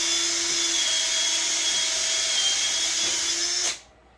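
A power drill whines steadily at high speed for several seconds, then winds down and stops, drilling holes for a stair railing post.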